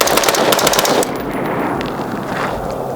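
A Daniel Defense M4A1 RIS III rifle with a 14.5-inch barrel and pinned-and-welded muzzle device fires a loud, close rapid string of shots for about a second, followed by ringing echo outdoors.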